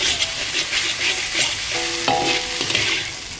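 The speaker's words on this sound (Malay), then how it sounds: "Lepas tu kita goreng telur ni hacur dulu dah." Beaten eggs frying in a hot pan with oil, a loud continuous sizzle close by, broken by scraping strokes of a spatula as they are stirred, with a few metallic clinks.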